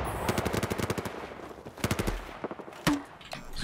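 RPK light machine gun firing in Battlefield 4, loud rapid bursts of automatic fire in rhythmic strings, a pause, then another burst and a single heavier boom near the end.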